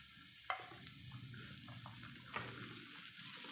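Slit green chilies added to a hot pan for an aloo palak matar dish, giving a soft steady sizzle with a couple of sharp clinks of a utensil, quiet and without talk.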